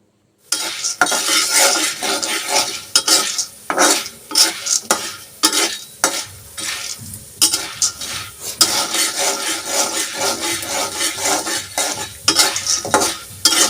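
Popcorn kernels and salt stirred nonstop in a hot pan on a stovetop, a steady loud scraping and rattling with rhythmic strokes over a faint sizzle, no voices.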